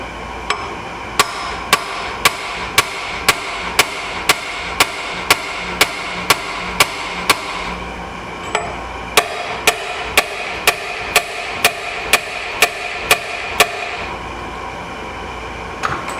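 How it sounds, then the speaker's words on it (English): Sharp, regular hammer blows strike the seized piston of a 1994 Sea-Doo SPI jet ski engine, about two dozen metallic knocks in a steady rhythm with a short pause midway, close and distinct over a faint background hum. "I hate hitting on it with a hammer,"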